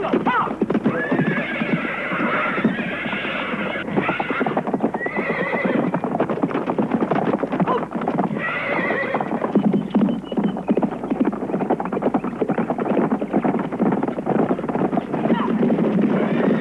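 Horse hooves clip-clop steadily and close while a horse neighs and whinnies several times, with a low wind rumble underneath, in an old Iranian film scene.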